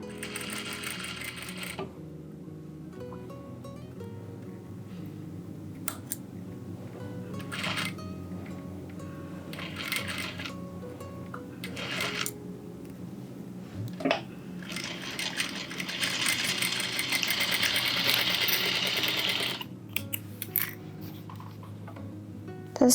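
A sewing machine stitches a seam on a dress in short bursts broken by pauses, clicks and fabric handling, then settles into a longer, louder run near the end.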